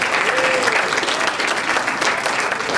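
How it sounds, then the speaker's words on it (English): Steady audience applause at a community fete, a dense crowd clapping loudly and evenly throughout, with a faint voice briefly audible underneath. "Yeah, give him a round of applause."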